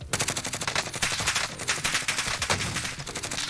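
Grau assault rifle fire in Call of Duty Warzone, rapid sustained automatic bursts loud and close, one short pause midway, no talking.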